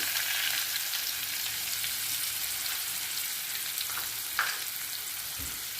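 Finely chopped onion fries in hot oil in a pan with a continuous bright sizzle, steady and close, broken by a couple of brief stirring scrapes toward the end.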